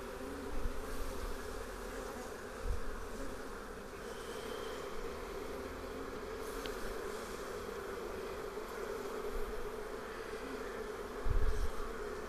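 Honey bees buzz steadily around an opened beehive during colony division, a dense continuous droning hum close by with a few louder passes, no talking.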